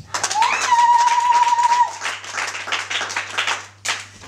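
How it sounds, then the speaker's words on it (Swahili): An audience claps in dense, sustained applause lasting several seconds, with a steady tone and hum running beneath it before the clapping thins out. "Nipigieni makofi."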